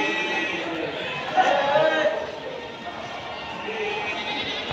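Uncastrated goats bleat among the stalls of Deonar goat market in Mumbai, a few cries rising over a busy murmur of people talking and moving through the livestock crowd.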